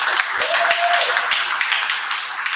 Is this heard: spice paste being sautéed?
no